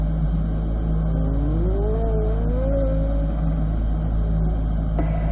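A car engine rising in pitch as it accelerates, then shifting into second gear on a track during a driving lesson, loud and close in a steady drone with no talk.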